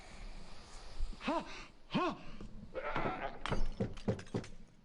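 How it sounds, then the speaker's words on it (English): A goat in Assassin's Creed Origins bleats twice in quick, wavering cries, followed by a scatter of sharp clattering, breaking-like game sounds, all fairly faint. "Was that a goat?"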